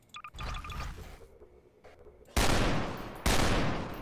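Rapid gunfire during a bullet hell round in Garry's Mod: sharp clicks and scattered shots give way to two loud, dense bursts of firing near the end, each with a sustained noisy tail.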